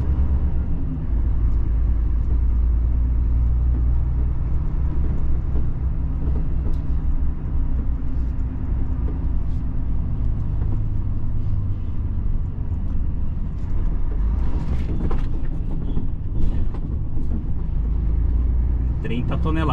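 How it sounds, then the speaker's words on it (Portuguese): A heavy truck loaded with 31 tonnes of salt drives near Macau, Rio Grande do Norte, giving a loud, steady low rumble throughout with voices over it. "Isso aqui é um baita de um caminhão"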